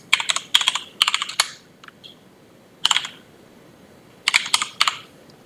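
Quick bursts of clicky computer-keyboard typing come in short clusters separated by brief pauses, crisp and close, while commands are entered in the vi editor.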